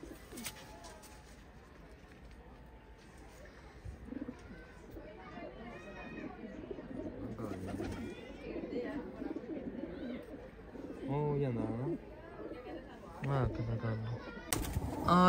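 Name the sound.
pigeons cooing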